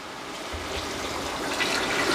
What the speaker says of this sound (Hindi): तो अभी मैं इसमें शामिल करूंगा पानी।